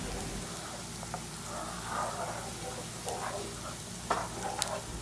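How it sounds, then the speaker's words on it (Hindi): Onions sizzle in oil in a pan over medium heat while masala kaleji is cooked, with a steady soft frying hiss and a few light clinks and stirring sounds, fairly quiet throughout. "प्याज को भी हम फ्राई करेंगे।"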